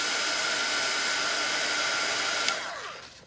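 A hair dryer blows close by in a steady, loud whoosh over a sheet of liquid acrylic paint, then switches off near the end as its whine winds down into quiet.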